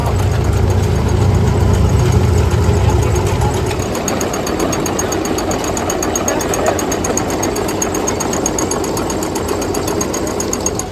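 A small Farmall Cub tractor engine runs steadily at idle throughout, with a deep rumble fading slightly after the first few seconds and a faint ticking rhythm on top.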